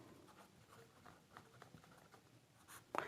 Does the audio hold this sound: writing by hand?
yes